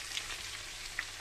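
Chicken pieces fry in a pan with a faint, even sizzle and crackle, a couple of small pops rising above the hiss.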